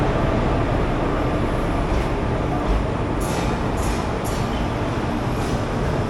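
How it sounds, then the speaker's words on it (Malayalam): A train rolls into platform 3 at a station with a steady, moderately loud rail rumble, and a few brief hiss-like bursts sound over the continuous noise. "അപ്പോഴത്തെ പ്ലാറ്റ്ഫോം നമ്പർ 3യിലേക്ക് ഒരു ട്രെയിൻ കയറി വന്നിട്ടുണ്ട്."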